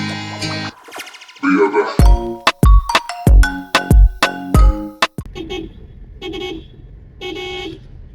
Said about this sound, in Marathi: आम्ही जसं जसं हॉर्न वाजवतोय ना ते तसं तसं मागे वळतोय